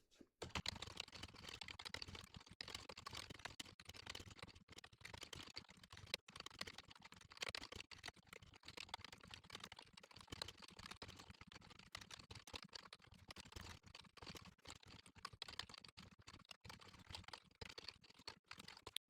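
Steady computer keyboard typing while code is written, a continuous run of close, fast key clicks with irregular rhythm and brief pauses, no talking.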